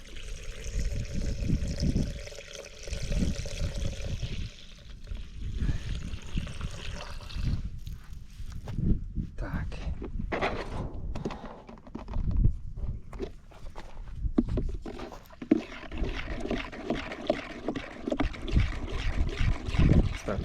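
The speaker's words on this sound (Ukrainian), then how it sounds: "трошки поколотили, щоб краще гербіцид розмішався з водою." Herbicide being mixed into water in a container by shaking and sloshing, irregular splashes and knocks with liquid swirling, moderately close, with quieter pauses between bursts.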